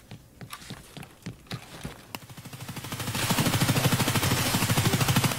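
Automatic gunfire from a video game, scattered single shots giving way to a sustained, loud rapid-fire burst that fills the second half of the clip.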